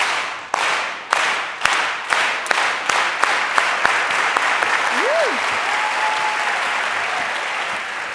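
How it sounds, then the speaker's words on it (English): A live audience starts a slow clap at a podcast interview event: sharp, evenly spaced claps that speed up and swell into continuous applause, with a faint whistle or cheer rising near the end. "I want to start the interview with a slow clap"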